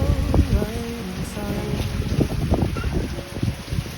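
Strong wind buffeting loudly in gusts during a heavy rainstorm, with rough low rumbling and rushing noise throughout, a few faint tonal sounds mixed in.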